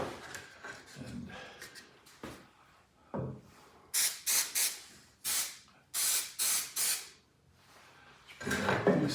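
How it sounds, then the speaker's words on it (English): Spray gun coating a golden oak wooden furniture piece, heard as a series of short loud hissing bursts in a rough rhythm, with quieter handling noises between them and a final longer burst at the end. "spray our piece there."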